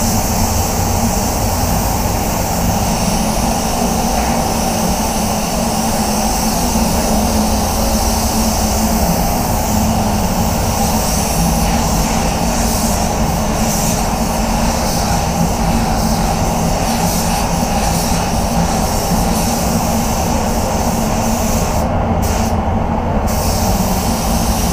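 A spray gun lays a light dust coat of paint on a Range Rover Sport, giving a continuous loud airy hiss that runs unbroken throughout with little variation.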